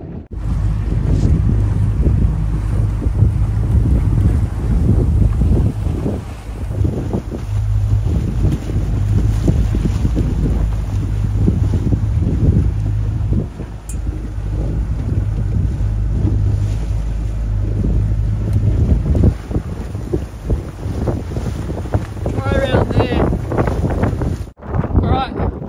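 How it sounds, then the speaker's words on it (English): Gusty wind buffeting a microphone on a fishing boat on Botany Bay, a constant loud low rumble with shifting intensity and faint water sounds throughout, ending in a sudden handling thump. "this random wind in every direction"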